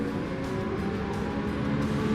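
Race car engine in Gran Turismo 7 at Interlagos, a steady, loud, buzzing high-revving drone held under hard acceleration, continuous and close with no talk over it.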